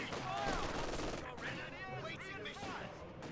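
Light machine gun bursts in the wartime strategy game Company of Heroes 2, quick rattling volleys heard mostly under a commentator's continuous talk.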